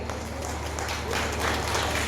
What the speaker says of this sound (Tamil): உங்களுக்குள்ளே நீங்கள் ஒரு கைத்தட்டு கொடுத்துக்கோங்க